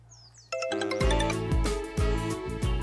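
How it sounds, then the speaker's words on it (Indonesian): A telephone ringtone plays, a bright electronic melody of repeating chiming tones that starts abruptly and rings on steadily and loud. "Itu ada yang telepon kamu."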